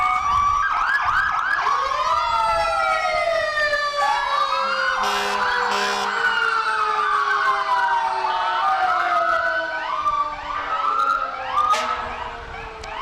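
Fire engine siren from Sooner Fire Department's Engine 1 in the Guthrie 89er Days Parade, loud wailing tones rising and falling with overlapping siren sweeps and brief horn blasts, close by and dominating the scene.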